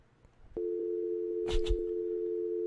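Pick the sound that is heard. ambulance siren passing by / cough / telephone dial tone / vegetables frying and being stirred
telephone dial tone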